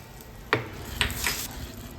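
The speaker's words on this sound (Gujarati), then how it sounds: "વઘારને આપણે આની અંદર એડ કરી દઈશું" Hot tempering of ajwain and asafoetida hitting a pan for samosa filling, a few sharp sizzling bursts over a low steady frying hiss, close and fairly loud.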